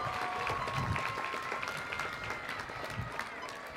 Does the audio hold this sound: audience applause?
yes